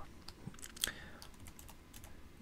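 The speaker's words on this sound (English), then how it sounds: "let's just say I start typing Anna" Keystrokes on a computer keyboard, a short run of light clicks at close range with a louder tap near the middle, no voices.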